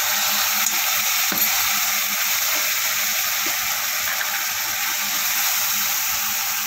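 A spice paste with coriander powder sizzles steadily in a hot pan for masala chana, giving a loud, even hiss that runs unbroken throughout with faint stirring clicks and no talking.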